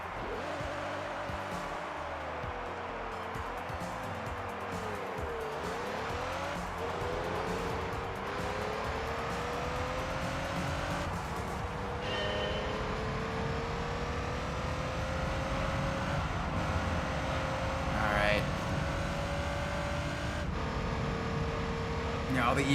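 Production car engine in Gran Turismo 3 revving and shifting through a pit stop, with rising and falling tones, a few sharp blips and steady tire and road noise, while someone talks over it.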